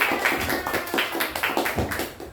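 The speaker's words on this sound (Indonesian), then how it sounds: "Beri tepuk tangan." Students clap together in a classroom during a micro-teaching lesson, giving a close, loud run of roughly rhythmic group claps.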